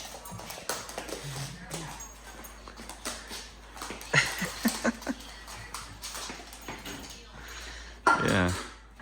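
Excited dog whimpering and giving short happy howls in eager anticipation of donuts, with brief yips rising over people talking and a clatter of dishes in a kitchen.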